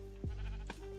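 A single sheep bleats in a video game, followed by a second short bleat, over a steady low hum, fairly close and clear.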